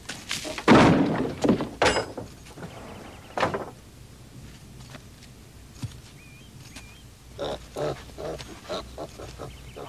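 Pigs grunting and squealing in loud, close bursts at first, then fainter scattered snorts mixed with thumps and knocks, with no talk.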